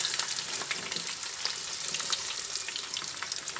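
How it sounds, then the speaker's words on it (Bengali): Sliced pointed gourd (potol) frying in a pan, a close, steady hiss of sizzling oil with continuous crackling texture throughout. "এক এক করে সব পটলই প্রায় দিয়ে দিলাম, ভাজা হচ্ছে।"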